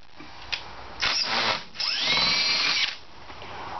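Cordless power drill driving screws into a timber rail frame, two short whirring bursts that bog down under load, with a faint click before them.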